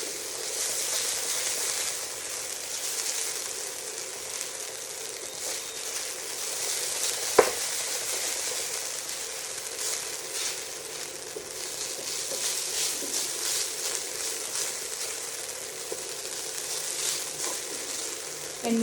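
Cooked white quinoa frying and being stirred in a pan with oil, a steady close sizzle with soft scraping of the spoon and one sharp knock partway through.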